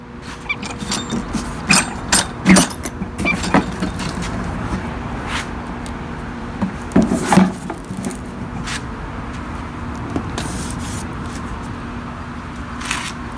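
Loose seat bolts are worked out of an antique Snapper Comet 26 rear-mount riding mower, with sharp metallic clanks, knocks and tool taps coming in irregular close bursts over a quiet background hum.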